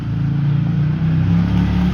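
Arctic Cat 1000 off-road vehicle driving close by, its engine giving a loud, steady low drone with a slight rise in revs partway through, and no talking.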